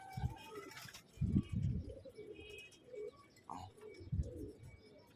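Pigeons, including Australian pigeons, give soft, low cooing calls in short, irregular bursts, fairly faint against quiet outdoor background noise.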